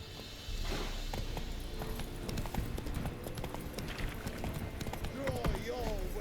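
Roach the horse's hooves drum in quick clip-clop steps across the ground in The Witcher 3, a steady close rhythm under faint game ambience and music.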